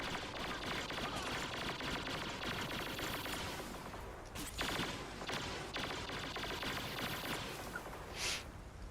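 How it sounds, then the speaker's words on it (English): Rapid video-game gunfire crackles in dense, continuous bursts at moderate loudness, with a couple of sharper cracks standing out midway through the sustained shooting. "and just keep shooting"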